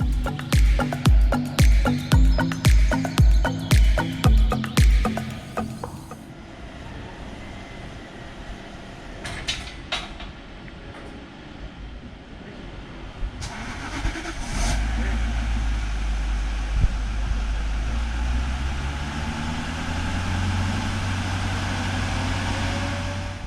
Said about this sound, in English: now we can hear the tram starting the car engine